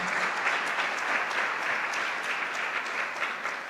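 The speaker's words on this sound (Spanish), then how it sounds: "Un fuerte aplauso, por favor, al Padre Gerardo." Audience at a church congress applauds a speaker being welcomed; a few seconds of steady, moderately loud clapping from a crowd, with no talking over it.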